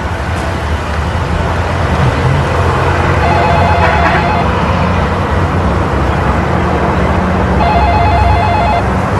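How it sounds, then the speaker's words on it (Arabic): A telephone bell rings in two short bursts over a loud, steady background hiss and rumble, with no talking. "ما سمعتيش؟ اه التليفون."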